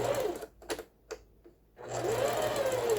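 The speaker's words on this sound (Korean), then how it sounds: "지금 현재는 지그재그 다이아를 사용해서 박음질을 하고 있습니다" Singer 4423 home sewing machine running a zigzag diamond stitch, its motor whirring in bursts separated by short pauses, with a steady hum returning as stitching resumes.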